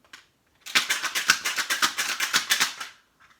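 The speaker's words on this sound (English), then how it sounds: "they were putting together a train track." Pieces of a toy train track clack together in a fast run of sharp plastic clicks and rattles, about two seconds of busy snapping close by, with a few stray taps before and after.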